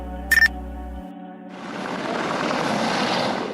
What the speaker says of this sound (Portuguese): Ele chegou escoltado no próprio helicóptero